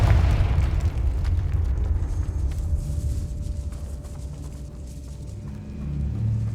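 A Confringo fire-blast spell explodes in the video game Hogwarts Legacy inside a decayed catacomb, a loud rumbling boom at the start that rolls off into a long low decaying rumble.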